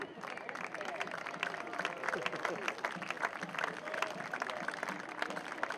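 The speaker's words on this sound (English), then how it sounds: "It's a round of applause as well from the fans." Football fans in a stadium applaud an injured player being helped to the sideline during a Charlotte Independence versus Phoenix Rising FC match, a steady mass of distant clapping and crowd noise with faint voices mixed in throughout.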